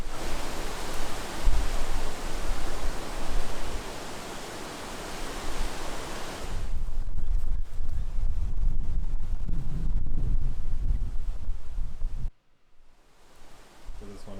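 Strong, cold wind roars and buffets the microphone outdoors at a leopard sighting, loud and gusting throughout, then drops to quieter rustle near the end.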